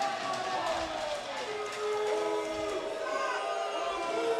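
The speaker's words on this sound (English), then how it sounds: "You can hear the parents very unhappy with that one." Crowd of parents in a hockey arena reacting with unhappy murmurs and groans after a goal in a youth elite quarterfinal, a steady diffuse wash of voices with no single clear shout.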